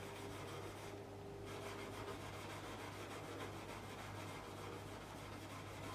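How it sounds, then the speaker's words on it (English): Wire wool rubs back and forth over the frets of a Tanglewood TW47 guitar, a close, continuous gritty scrubbing hiss at steady volume with no talk. "So just a couple of rubs up and down with a bit of wire wool"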